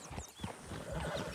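A horse ridden in Red Dead Redemption 2 moves with soft hoof clip-clops and snorting breaths over a low game ambience, brief and fairly quiet.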